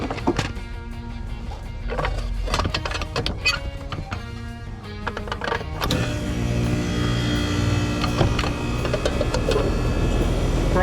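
HVAC unit starting up after its disconnect is plugged back in: clicks and rattles give way at about six seconds to a steady broadband motor and fan hum that continues to the end, moderately loud and close.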